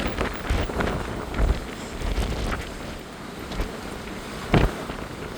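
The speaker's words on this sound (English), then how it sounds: "Man, it gets windy here." Gusty wind on the Queen Mary 2 during a transatlantic crossing buffets the microphone in uneven bursts, loud rumbling blasts rising and falling over a constant rushing background.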